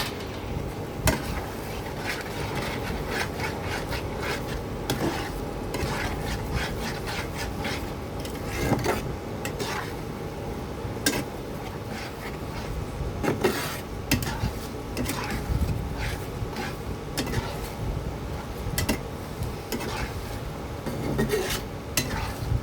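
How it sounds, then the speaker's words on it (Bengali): Potatoes being sautéed with spice masala and whisked yogurt in a pan, a steady scraping and stirring of a utensil against the pan with frequent clinks, continuous and close, with no talk. "দিয়ে আমি আলুর সাথে মশলাটাকে খুব ভালোভাবে কষিয়ে নেব।"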